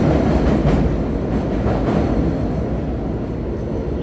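A train rolls past as a sound effect, a loud, steady rumble of rail cars with faint clattering that holds for about four seconds without any voices.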